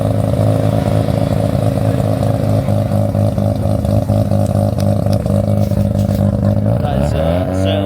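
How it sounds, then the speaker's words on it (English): A loud car at a car meet revs hard, a thick steady engine roar that fills every moment and starts to change pitch near the end as it pulls away. "That is certainly a very loud car."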